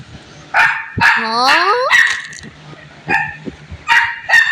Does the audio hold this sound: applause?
no